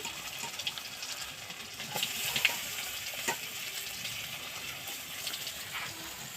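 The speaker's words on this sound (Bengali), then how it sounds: "এবার দেখুন আমরা একে একে করে আলু ভেজে নিচ্ছি" Potato slices fry in oil one batch at a time, giving a soft, steady sizzle with a few brighter crackles, fairly faint and with no speech.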